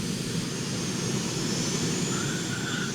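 An F/A-18 X Black Wasp jet in Arma 3 touches down on a land runway with a shallow, careful landing on a damaged hull, its engine a steady, loud, broadband roar throughout.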